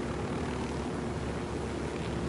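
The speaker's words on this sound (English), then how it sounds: "Plane is moving pretty good." Propeller plane flying in Ghost Recon Wildlands, a steady droning engine hum with a low tonal buzz, continuous and even in loudness, no talk over it.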